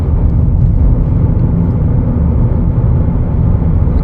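A 2025 Chevrolet Equinox LT FWD on a test drive, heard from inside as a loud, steady low rumble of road and engine noise with no talking.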